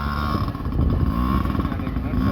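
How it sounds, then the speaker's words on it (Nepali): A motorbike engine runs after starting, idling with a steady, rough, low throb at close range and loud level, with slight surges in its rhythm. "हाम्रो चाहिँ बाइक स्टार्ट भइसकेको छ"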